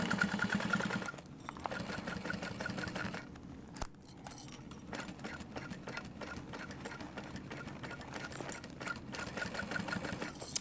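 Sewing machine stitching a Tiny Cata pattern, a continuous fast mechanical whir with rapid needle chatter, close and steady, briefly slowing before running on.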